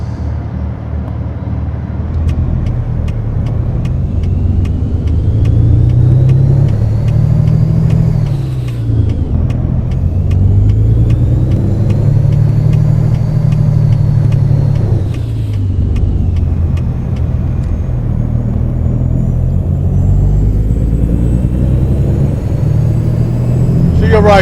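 Steady cab interior rumble of a truck hauling a 45-foot aluminum trailer from Macon, Georgia toward Orlando, Florida, loud and continuous with engine drone rising and falling through gear changes, no talking.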